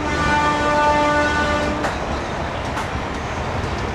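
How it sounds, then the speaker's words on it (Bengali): An Amrit Bharat Express train running at high speed, a steady loud rushing roar with a sustained horn tone fading out and a few sharp clacks from the track, no talking. "ডানকুনি ছাড়ার সাথে সাথে ট্রেন 130 ছুঁয়ে ফেললো"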